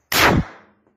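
A single loud, close gunshot at a shooting training range for firearms and martial arts, a sharp crack followed by a quick decaying echo, with no talk.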